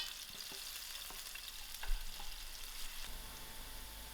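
Onions fry in a pan for a lamb mince and cauliflower curry, giving a soft, steady sizzle with occasional light scrapes and clinks from stirring, fairly quiet and close, with no talking.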